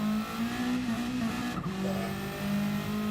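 A race car engine holds a steady, loud drone with a brief wobble in pitch as the wheels spin after the car touches the grass, then the tone settles and carries on. No speech.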